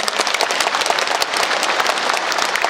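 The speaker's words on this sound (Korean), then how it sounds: "여러분 큰 박수 부탁드립니다." A packed audience at a book launch event applauds in a brief, loud, continuous burst of close clapping with no speech over it.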